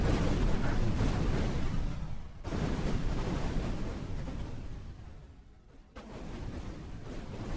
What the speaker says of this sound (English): all the missiles he's shooting off there destroy half of the enemy's missiles